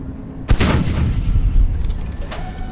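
A tank gun fires in the video game Space Engineers, giving one sudden loud boom with a rolling, rumbling decay as the tank recoils, followed by faint mechanical clicks.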